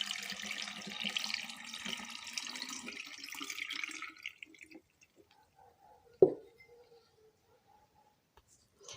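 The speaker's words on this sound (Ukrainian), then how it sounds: "Огірки заливаємо холодною водою." Cold water pours over cucumbers packed in a jar for barrel-style winter pickles without vinegar, a steady splashing rush for about four seconds that fades into quiet, with one sharp knock near the end.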